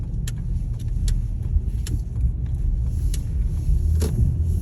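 A car drives through Brooklyn streets in the morning, with a steady low interior rumble and a few faint clicks and ticks over it, and no one speaking.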